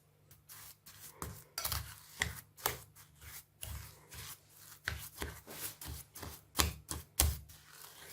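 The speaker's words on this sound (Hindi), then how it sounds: "अब ये मैं चम्मच की मदद से इसको अच्छे तरीके से मिक्स करूँगी।" Spoon working through a coconut macaroon mixture in a bowl: close, irregular clacks and gritty scrapes in a steady rhythm of strokes, fairly quiet and with nobody speaking.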